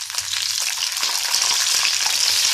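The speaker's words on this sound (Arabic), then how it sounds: "شوحنا البصل وهننزل بالطماطم كده" Chopped onions and tomatoes sauté in a hot frying pan, a dense continuous sizzle with crackling and a few soft stirring scrapes, close and alone.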